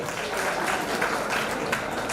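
Loud, dense applause from an audience at an organisation's event in Mumbai honouring high-achieving students, a continuous wash of many hands clapping throughout with no gaps.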